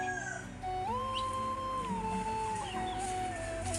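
Native country hens and a rooster squabble on a small farm, giving long, wavering drawn-out calls over faint background noise, with no talking.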